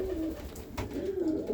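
Pigeons in a loft coo steadily, a low burbling chorus of several birds, close and continuous with no talking.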